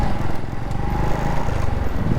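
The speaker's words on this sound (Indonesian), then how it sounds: "suara knalpotnya tuh dia masih ada ininya ya, ada suara bek-bek-beknya, tapi nggak terlalu yang nyaring banget" Honda Revo motorcycle engine and exhaust idling up close, a loud low throbbing putter with a steady, slightly uneven pulse and no talking.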